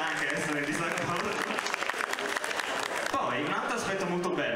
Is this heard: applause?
yes